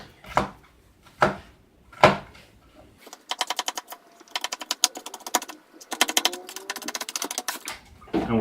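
A knife slices a pepper on a cutting board: a few separate chops, then a fast run of crisp rhythmic cuts, close and fairly quiet.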